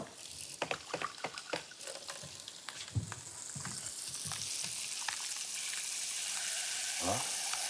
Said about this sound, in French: on va déglacer avec une pichenette d'eau